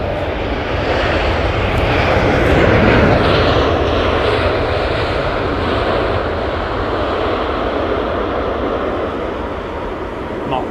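An airliner takes off with a loud, close jet roar that builds, peaks and then slowly eases, a voice speaking briefly over the engines.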